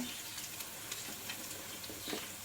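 Prawns frying in a pan, giving a faint, steady sizzle with small crackles and pops scattered through it and no talk over it.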